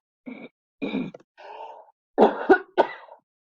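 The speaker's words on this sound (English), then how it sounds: "hopefully that's the last cough" A string of short coughs and throat-clearing grunts, about six bursts separated by brief pauses, close and fairly quiet, with no speech.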